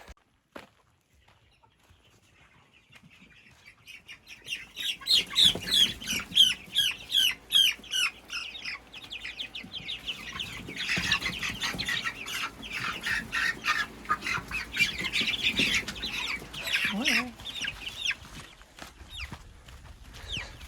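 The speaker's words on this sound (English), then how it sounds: "First meat bird in the chicken tractor." Meat chickens cluck and squawk close by in a chicken tractor on pasture, a busy overlapping chorus of calls that starts after a quiet opening and grows denser and louder, with rustling and handling sounds underneath.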